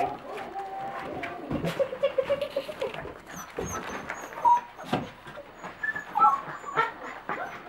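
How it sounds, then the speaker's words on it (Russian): Dogs whimpering and giving short yelps and barks indoors, close and fairly loud, in irregular bursts, with people talking quietly in the background. "Собаки."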